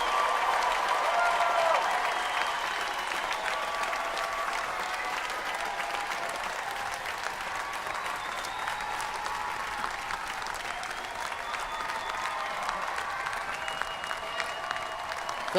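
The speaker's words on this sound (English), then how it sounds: "Let's have one final round of applause for the class of" Sustained applause from a large audience at the 2018 UCLA Luskin School of Public Affairs commencement, for the graduating class of 2018. The clapping stays dense and even throughout, with crowd murmur blended in.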